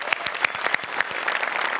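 Audience clapping for a two-person stage performance, a steady burst of applause with sharp individual claps standing out, close and lively throughout.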